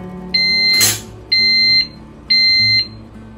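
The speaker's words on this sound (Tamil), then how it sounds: "பீப் சத்தம் கேட்டுச்சு பாருங்க" A Geek Robocook electric cooker finishing a batch of cashew ghee rice gives three evenly spaced, loud, high electronic beeps, each about half a second long, with a short burst of kitchen noise during the first.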